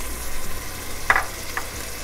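Spices, mint leaves and chicken cubes frying in a pan on low heat while being stirred, with a close steady sizzle, a few scraping stirs and a sharper clink near the middle, no talking.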